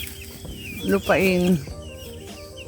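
Farm chickens give a short, loud, rising-and-falling call in the middle, with quieter clucking around it, while a person talks nearby.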